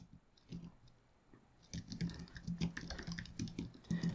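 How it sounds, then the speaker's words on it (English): Keys on a computer keyboard are tapped out in a quick run of clicks while a command line entry is entered, sparse at first then denser and louder toward the end. "We could do this by typing"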